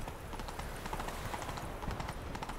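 In The Witcher 3, the horse Roach trots with even, continuous hoof clip-clops at moderate volume, mostly on its own with little talk.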